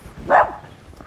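A dog gives a single short bark, moderately loud and somewhat distant, outdoors on a walk near Bawdsey Ferry, against low background noise.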